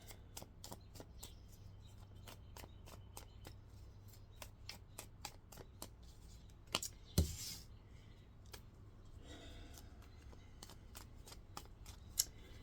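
Tarot cards shuffled by hand in a quiet room, a steady run of short, crisp card snaps and riffles at close range, with one sharper louder flick partway through and no talking.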